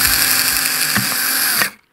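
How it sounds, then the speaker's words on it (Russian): An electric drill bores a hole for a homemade Wi-Fi antenna, a steady high whine running close and loud for under two seconds before cutting off abruptly. "Берем дрельку, сверлим дырку аккуратно"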